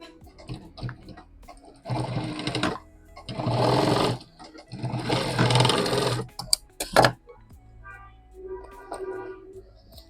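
A sewing machine stitches fabric in three separate bursts of fast, even mechanical whirring, close and fairly loud, with quiet pauses and small handling knocks between them.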